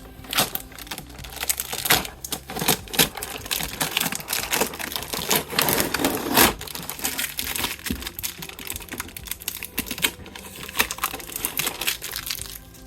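Packing tape is torn off a cardboard box holding a Monster Jam toy set, producing a continuous close crackle and rip with dense crinkling bursts and steady tearing throughout.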